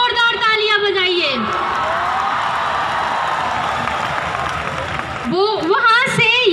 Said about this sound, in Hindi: अपने लिए जोरदार तालियां बजाइए।